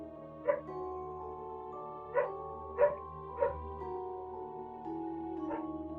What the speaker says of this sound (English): excuse the dogs barking outside